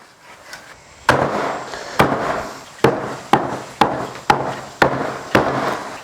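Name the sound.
chopping a cleaned catfish into pieces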